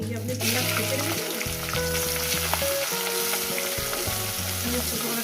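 Chopped onion frying in oil alongside fried katla fish in a pan, a steady close sizzle with tonal hum and some stirring scrapes, no talk.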